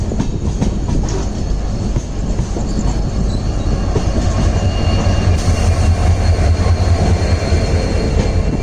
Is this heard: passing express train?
yes